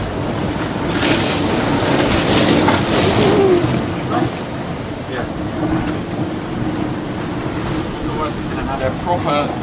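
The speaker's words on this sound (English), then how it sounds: "They're proper ocean waves, I think you call these." Ocean waves crash around a racing sailboat in gale-force weather near Cape Horn, with loud, continuous roaring wind buffeting close by and surging water rushing steadily throughout.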